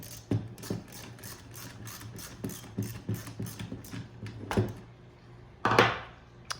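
A fastener on a vintage car air heater control is snugged up with a run of small, evenly spaced mechanical clicks like a ratchet, close by, ending in a couple of louder knocks and a scrape.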